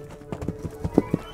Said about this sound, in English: Here is the horse carriage!